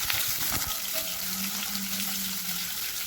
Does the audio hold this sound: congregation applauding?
no